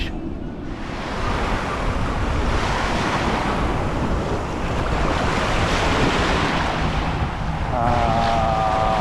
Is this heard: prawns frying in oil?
no